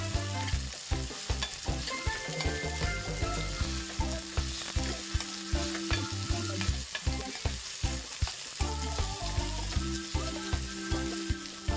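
Pechay stems sizzle and crackle as they are stir-fried in a hot pan, with steady frying hiss throughout and repeated sharp scraping strokes of a utensil stirring the greens.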